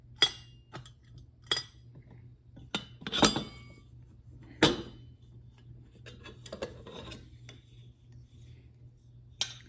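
The metal lid of a GSI camping kettle is handled up close, giving sharp clinks, taps and scraping rubs in an irregular series against a quiet background.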